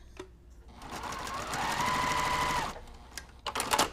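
A sewing machine runs a short burst of stitching at a 1.5 stitch length across small unpinned fabric pieces for a quilt block, rising and holding for about a second, then stopping, with light handling noises around it.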